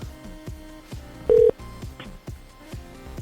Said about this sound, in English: Nicole, can you three-way Jim onto the line